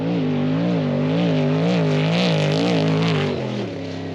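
An off-road trophy truck's engine runs strongly as it drives past, the roaring pitch wavering as it rises and falls with throttle. It stays loud and close throughout, then drops slightly near the end, with no talking.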